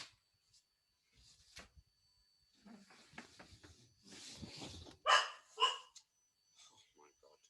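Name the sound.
dog barking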